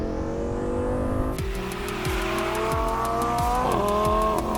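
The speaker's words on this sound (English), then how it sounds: "Would you mind if I gave it a little gas?" A rear-wheel-drive Lamborghini Balboni Gallardo engine revs hard and close, climbing through several quick gear-like steps with sharp rising whine and a continuous loud roar.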